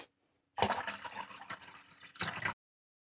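Dirty carpet-cleaning waste water flushes down a toilet in a loud rushing surge that stops abruptly, followed by a brief second gush, with silence before and after.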